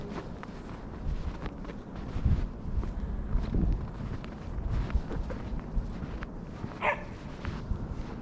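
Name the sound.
dogs playing outdoors in the snow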